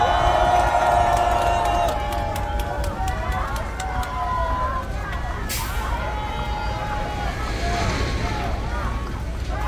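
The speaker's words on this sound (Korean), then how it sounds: "박수 한번 주십시오." Large crowd at a presidential campaign launch rally for a candidate roars and cheers loudly and steadily throughout, with amplified talk over the dense crowd noise and some wind buffeting.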